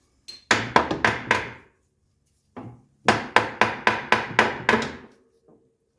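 Hammer taps a bolt through a control arm on a 1979 Mercedes 300SD, two quick bursts of sharp metallic knocks, about five strikes then a short pause and eight more in a steady rhythm, close and clear.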